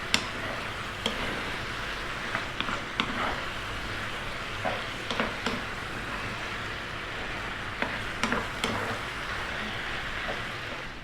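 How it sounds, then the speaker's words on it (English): Pasta being stirred into sauce in a pan, a steady low sizzle with intermittent scraping and clinking of the utensil, close and even throughout. "We're just going to be stirring this pasta into the sauce."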